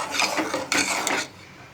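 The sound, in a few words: stirring firni in a pot after adding sugar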